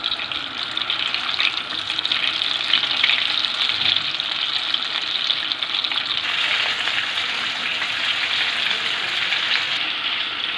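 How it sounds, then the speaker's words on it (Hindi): Potato chicken cheese balls coated in flour, egg and breadcrumbs deep fry in hot oil in a kadai, a dense, continuous loud bubbling sizzle that holds steady throughout, with no voices. "अब इनको हम डीप फ्राई करेंगे।"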